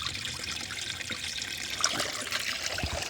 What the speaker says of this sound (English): let's fill this up with water and see how it does.